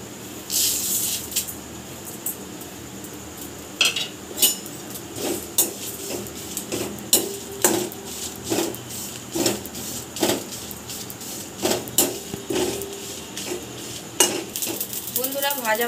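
Spice mix for chutney dry-frying in a pan, with repeated sharp scrapes and clinks of a utensil against the metal over a faint background hiss, no one talking.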